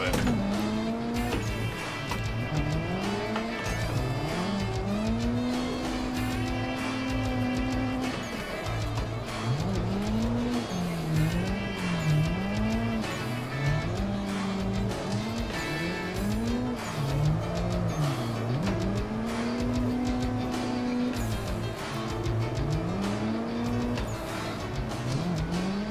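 Sim racing game cars drift in tandem, engines revving in rising and falling sweeps while tires squeal in repeated long skids, loud and continuous for the whole stretch with no voices.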